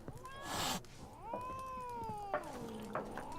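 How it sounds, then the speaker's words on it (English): A cat meows in The Witcher 3, with two or three drawn-out, rising and falling mews heard close and clear against a quiet ambient background. "Ooh, a cat."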